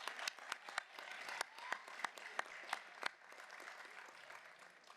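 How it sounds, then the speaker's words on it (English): An audience applauds award recipients at a school board recognition meeting, a brief burst of sharp claps, some of them nearby, that thins out over a few seconds, fairly quiet overall. "One more round of applause for Lucy Maniatis and Phil Clark."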